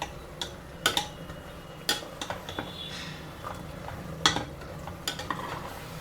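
Fresh mint leaves fry in hot oil while a spoon scrapes and stirs the pan, bringing a steady sizzle with sharp metallic clinks and scrapes that recur irregularly and close by.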